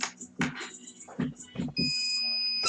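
A heat press timer beeps in a burst of short high tones, followed by one long steady tone, with a person talking over the first beeps.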